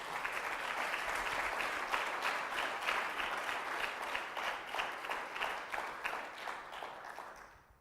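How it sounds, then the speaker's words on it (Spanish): A church congregation applauds in a steady, dense wash of clapping that holds strong for several seconds before tapering off at the end. "dale un fuerte aplauso a Dios"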